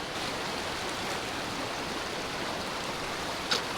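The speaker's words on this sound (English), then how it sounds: "I am going to try to film at least one water crossing for you." A cold mountain stream in the Smoky Mountains in winter rushes in a steady, broad watery hiss close by, with a brief splash near the end as someone wades through.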